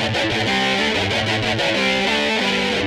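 Slowed-down distorted guitar riff from a dance track, loud and sustained with repeating heavy chugging notes and thick effects, filling the whole stretch with no talking.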